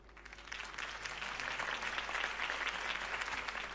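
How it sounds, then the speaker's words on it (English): A crowd in the Batman Telltale Series video game applauds after a campaign speech, a dense steady wash of clapping that swells quickly and holds, heard from a slight distance. "If only Mr. Wayne, my campaign's largest backer, could have heard that applause"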